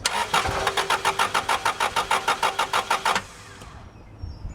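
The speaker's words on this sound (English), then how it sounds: "now we're going to crank the engine" A car engine with a no-start fault cranks over with a rapid, rhythmic chugging of the starter, about a dozen even pulses, then stops, leaving a quiet hum.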